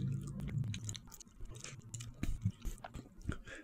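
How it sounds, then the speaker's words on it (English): Gum is chewed slowly and deliberately at the front of the teeth, giving close, quiet, moist clicks and squishes in an irregular rhythm, with no talking. "I put it in the front of my teeth and chew it nice and slowly for a minute straight."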